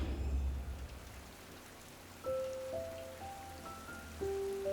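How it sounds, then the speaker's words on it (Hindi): Light rain falls outside an open hotel room window as a soft, steady hiss, joined by a few faint sustained tones partway through. "हल्की हल्की बारिश हो रही थी"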